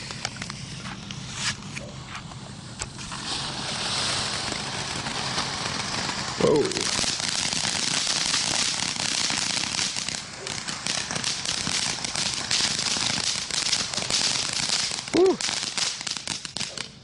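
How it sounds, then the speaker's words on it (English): Pyro Demon Everlasting Mayhem firework fountain with gold chrysanthemum effects, a dense continuous crackling and hissing spray that stays loud and steady throughout, with a few brief whistling rises. "everlasting fountain of crackling mayhem and vibrant colors with gold chrysanthemum"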